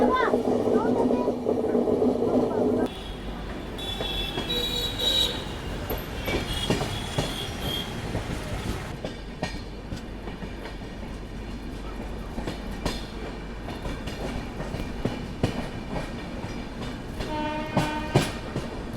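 Ajmer Mysuru Express rolling along the rails, a steady loud rumble of wheels and carriage with squealing and rhythmic clacking, a louder burst at the start and a brief horn-like tone near the end.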